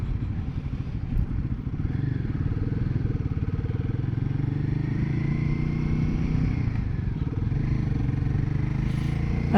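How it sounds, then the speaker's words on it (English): Riding a Royal Enfield Guerrilla 450 motorcycle: steady low buffeting wind roar over a throbbing single-cylinder engine thrum, continuous and close with no voices. "Can hear the wind."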